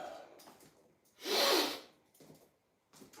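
A single loud nasal blow bursts out for about a second, close by, with faint breathy sounds and quiet murmurs before and after.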